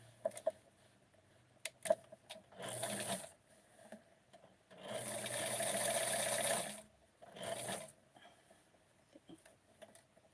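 A sewing machine stitches darts on doll pants, with bursts of rapid mechanical whirring separated by pauses and small clicks, the longest run lasting about two seconds, close and moderately loud.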